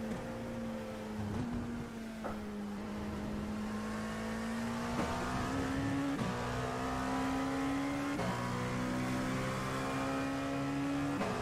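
Race car engine in a Le Mans endurance racing video game, a steady high drone with gear-shift steps and rising revs, loud and continuous with no talk.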